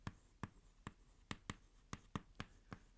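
A pen writes an accounting entry by hand on paper, producing a string of soft, sharp taps and short strokes at an irregular pace, close but very faint.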